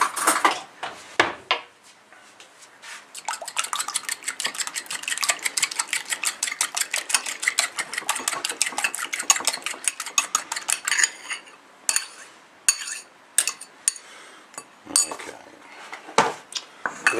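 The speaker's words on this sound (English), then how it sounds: "Now I'm going to need a fork to mix up the egg." A fork beats eggs in a bowl for breaded lamb cutlets, producing a fast, steady run of close metallic clinks and scrapes that pauses briefly and then resumes in shorter bursts.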